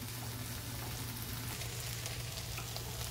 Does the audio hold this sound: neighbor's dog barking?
no